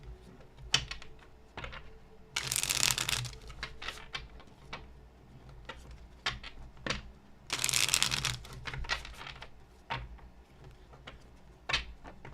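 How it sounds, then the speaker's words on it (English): Tarot cards being shuffled by hand, two loud riffling bursts separated by softer taps and card handling, close and clear with no talk over them. "Let me shuffle."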